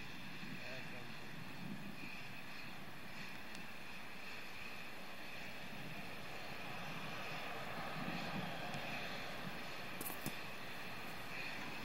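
Space Shuttle Discovery's three main engines during the STS-116 launch ascent, a steady distant roar with faint crackle, continuous and even for the whole stretch, with no voices over it.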